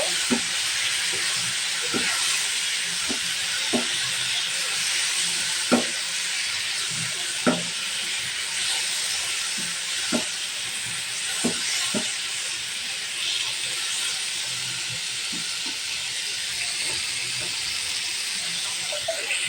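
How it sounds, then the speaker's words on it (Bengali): Bitter gourd frying with fish in a pan gives a steady, close sizzle, with scattered taps and scrapes of stirring throughout and no voices. "আমি এখন উস্তা বা করলাটা দিয়ে দিচ্ছি, দিয়ে এটাকে ভালো করে আমি ভেজে নেব।"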